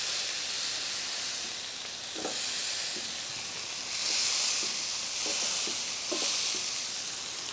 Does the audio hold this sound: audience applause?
no